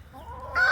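A rooster some way off in a backyard garden flock lets out a brief call that swells near the end, rising out of quiet outdoor background hum.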